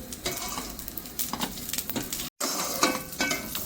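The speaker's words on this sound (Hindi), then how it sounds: "देसी घी डाल के इसको मैं भून के निकालूंगी" Vermicelli and dry fruits roast in desi ghee, a steady sizzle with stirring scrapes throughout and one brief dropout midway, close and without talk.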